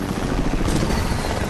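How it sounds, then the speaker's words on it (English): Helicopter in the Fortnite video game, a steady loud rotor drone with a dense broadband rumble holding evenly throughout. "Somebody's in a helicopter."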